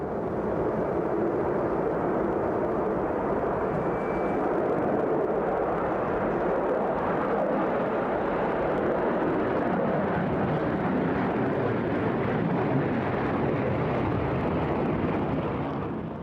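A Concorde supersonic airliner in flight, a broad continuous engine roar that holds steady and loud throughout with no break, heard alone.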